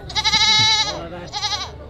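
Goats bleat at a highland market in the mountains of northwest Vietnam: two loud, close, quavering bleats, the first long and the second shorter, over light background murmur.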